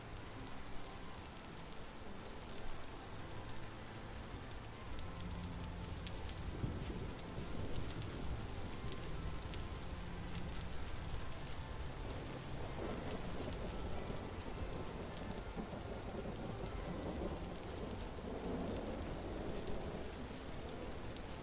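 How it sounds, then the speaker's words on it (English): Steady rain falls in a hardcore dwarf colony-management video game, a soft, constant hiss with scattered droplet ticks. It stays faint and even throughout, with no voices. "It's a little foggy. I mean, it's raining."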